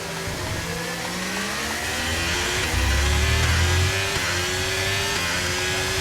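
Formula 1 car engine in the F1 23 racing game, a continuous high-pitched whine rising and dropping through gear changes, loud and close with no talk.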